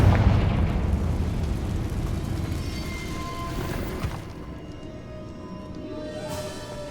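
A Confringo fire spell detonates in Hogwarts Legacy, a loud, deep boom that rolls into a long rumbling roar and slowly fades, with a second softer burst near the end.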